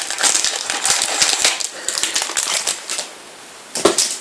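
Cards and wrappers from a Panini Adrenalyn XL Euro 2016 starter pack being pulled out and handled, giving a steady run of close, crisp papery rustles and clicks, with a sharper burst near the end and no speech.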